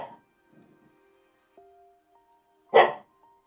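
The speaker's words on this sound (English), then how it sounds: "what the corgi is barking at" A corgi lets out one sharp, loud bark close by after a mostly quiet stretch with faint tones and a small sound at the start.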